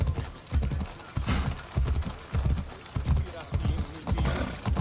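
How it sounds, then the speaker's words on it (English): A horse gallops in the video game Assassin's Creed Odyssey, at an ancient Greek footrace setting. Steady, rhythmic hoofbeats thud close and continuous, with a voice talking over them. "I'm just gonna borrow this horse."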